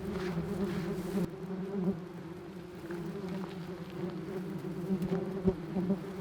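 Yellow jackets buzz continuously around an underground nest being dug up with a spoon, a dense, steady drone of many insects close by, with faint scraping and no talk.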